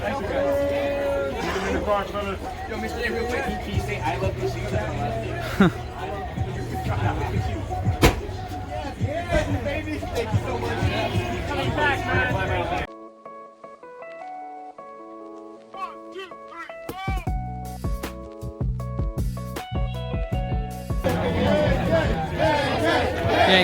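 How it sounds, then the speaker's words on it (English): Crowd at an Andrew Yang rally in Los Angeles, a dense roar of many voices and cheering close by, then a sudden drop to thinner, quieter crowd noise with scattered shouts. "The crowd of the end here."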